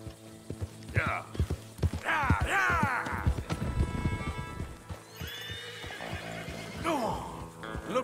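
Horses in the video game Red Dead Redemption 2 whinny and neigh repeatedly while hooves clip-clop close by, with game voices and music layered through the scene.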